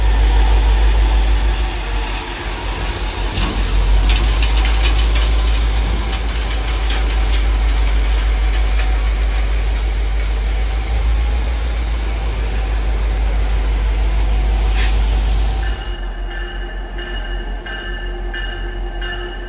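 A pair of GP40MC diesel locomotives hauls a ballast train, their engines droning loud and steady with rail rumble throughout before the sound drops off sharply near the end.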